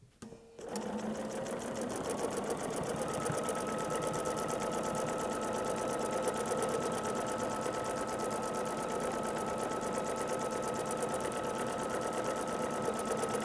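A sewing machine quilting a double C stitch pattern across a basted quilt runs at a fast, steady mechanical whir with rapid needle ticking, starting after a brief pause and continuing evenly close up.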